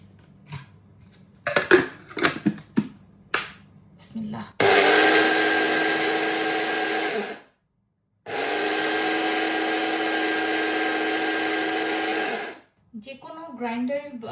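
An electric blender grinds roasted cumin seeds into spice powder in two loud, steady bursts of whirring motor noise, separated by a short silence, following a few clattering knocks as the jar is handled.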